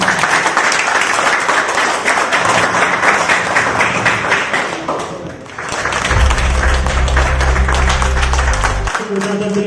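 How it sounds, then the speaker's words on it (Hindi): Loud, sustained applause from a crowd welcoming a speaker in Dwarka, Delhi, at a public outreach event, with a voice talking over it and a low hum joining in the later part. "एक बार जोरदार तालियों के साथ"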